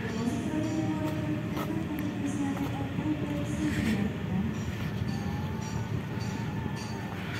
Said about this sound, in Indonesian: Saya akan masuk lagi ke stasiun Kroya